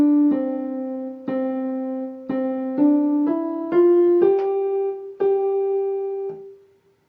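Short piano melody played as one of two comparison examples: about eight single notes struck in sequence, mostly stepping upward then settling and decaying, clear and close with no speech.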